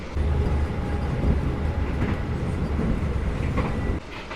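Passenger train rumble with rail clatter from inside a Taksaka train as it passes another Taksaka train, a steady loud roar that drops off abruptly near the end.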